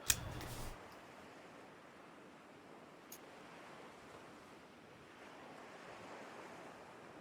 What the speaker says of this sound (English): You hear the distant sound of water lapping on the shore